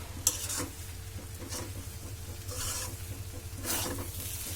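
Fried vermicelli (semai) scraped and stirred out of a pan into a tray, with soft scrapes and faint sizzling in several short bursts over a low steady hum, quiet and close.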